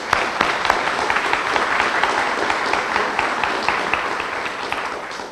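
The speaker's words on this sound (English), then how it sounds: "so let's give her another round of applause." Applause from the audience at a 2007 elder awareness conference, loud and dense, with a few sharper individual claps standing out from the steady crowd clapping throughout.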